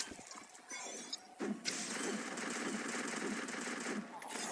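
Rapid automatic gunfire rattles in a shooting video game as the player fires at an enemy. Short bursts give way to sustained rapid fire that continues to the end, loud and close under faint talk.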